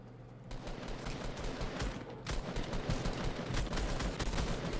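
Rapid gunfire in Fortnite Battle Royale crackles in dense bursts, with a steady rattle of shots that grows louder partway through and keeps going without talk.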